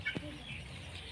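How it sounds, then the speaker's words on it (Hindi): Chickens cluck in a short burst at the start, near and fairly clear, then fade into a quiet outdoor background. "सीन मुर्गी हैं भाई जी"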